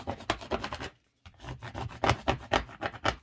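Scraper rubbing vinyl down onto a notebook cover in quick rasping strokes, a steady run of close, moderately quiet scratches with one brief pause in the middle.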